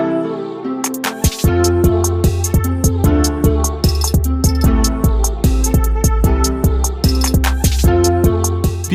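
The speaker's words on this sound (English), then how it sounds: "Today we're gonna make a Jersey beat that sounds very emotional and very epic" An emotional, epic Jersey club beat built in BandLab plays loud and continuous, with fast punchy kicks and sharp percussive hits over sustained melodic chords and layered synths.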